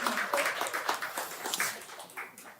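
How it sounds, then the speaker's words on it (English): A church audience claps for a girls' softball team, a soft, scattered burst of many hands heard at a moderate distance that thins out over a couple of seconds. "Go ahead and go clap for the girls"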